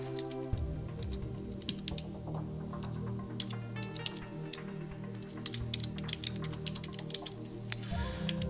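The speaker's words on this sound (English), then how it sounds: "I will create a fake account starting out by entering a first name followed by a last name and an email." Typing on a computer keyboard to enter a name and email, with a continuous patter of close, quick key clicks over a low background hum; no one speaks.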